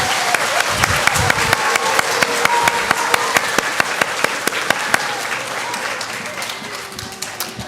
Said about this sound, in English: let's give these boys and girls a big round of applause